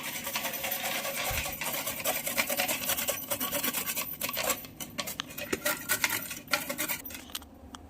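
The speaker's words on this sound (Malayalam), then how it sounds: "നമുക്ക് ക്യാരറ്റ് ഇത് ചെറുതായിട്ട് സ്ലൈസ് ചെയ്യാം" Carrot being sliced into small pieces with a knife, a dense run of rapid scraping and cutting strokes on a board, close and continuous, thinning into separate sharp cuts toward the end.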